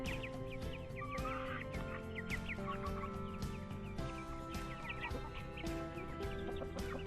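Chickens and young chicks outdoors in a poultry yard, with many overlapping clucks and peeps, busy and continuous at a moderate distance, and no one speaking.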